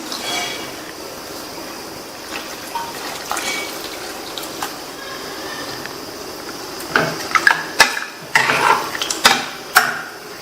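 Two cups of water poured into a pot of sambar ingredients with green chilies, fenugreek, turmeric and sambar powder, a close splashing gush with clanks and knocks of the vessel growing louder toward the end.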